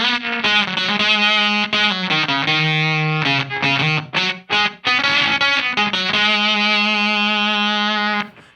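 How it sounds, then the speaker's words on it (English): Electric guitar played through a Beetronics Abelha fuzz pedal in pollen mode, a sagged, battery-starved, gated fuzz; thick distorted chords and single notes ring loud and close, with brief choppy gaps midway before sustained chords return. "Pollen mode is a sagged fuzz kind of sound."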